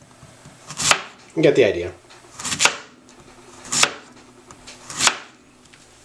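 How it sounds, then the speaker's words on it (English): Knife chopping zucchini into thin slices on a cutting board, with several sharp, distinct cuts spaced about a second apart, close and fairly loud, and a short stretch of talk in between. "first thing I'm going to do is cut it into thin pieces"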